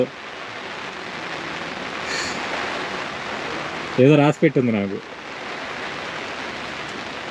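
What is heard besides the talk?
heavy rain falling on a backwater lake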